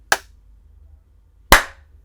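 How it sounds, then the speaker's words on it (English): Two sharp hand claps, about a second and a half apart, ring out close and loud against a quiet room, each with a short decay; no one talks. "let's do a little clap sync here"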